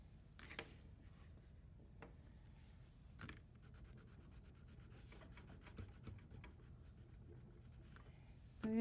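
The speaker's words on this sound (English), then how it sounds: "I really am pressing hard with my crayon" A crayon pressed hard scratches and rubs across paper in quick strokes, soft close scraping with occasional sharper accents, no voice present.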